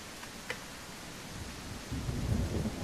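Heavy rain pours steadily in the Mist Survival video game, with a deep rumble of thunder building and rolling in near the end; no one speaks.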